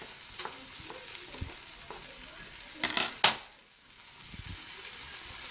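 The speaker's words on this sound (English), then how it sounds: "And we're gonna sweat the onions until they go translucent. And with the onions, we're gonna add the garlic." Onions and garlic sweating in a pan for risotto, stirred with a wooden spoon: a steady faint sizzle with a few brief scraping clicks of the spoon near the middle, no talking.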